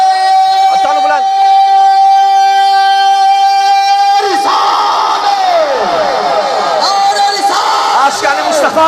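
Large crowd at a Pakistani religious gathering loudly chanting the Nara-e-Risalat slogan with raised hands, a leader's sustained call followed by a massed roaring response of many voices, dense and continuous.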